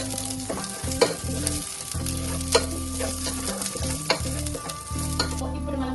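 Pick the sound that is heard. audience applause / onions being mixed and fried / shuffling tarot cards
onions being mixed and fried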